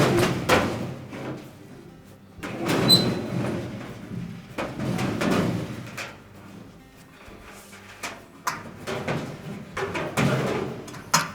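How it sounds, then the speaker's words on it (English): A Frigidaire dryer drum lifted at the back and tilted out through the cabinet opening, giving irregular hollow metallic clunks, scrapes and rattles close by, with quiet gaps between bursts. "we'll lift up on the back of the drum to disengage the bearing. And we're going to tilt it enough to get it through the opening"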